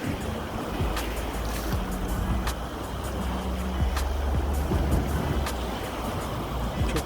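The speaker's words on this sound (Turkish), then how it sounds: "şu arada yine bir şelale var." A waterfall near Brienz, Switzerland, gives a steady, broad rushing roar, constant and fairly distant, with faint scattered clicks on top.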